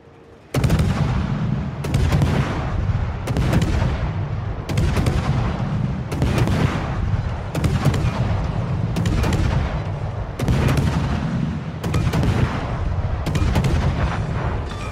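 Warship artillery in World of Warships booms in a regular series of about eleven heavy salvos roughly a second and a half apart, each a loud sharp blast trailing into rumble, with no voices.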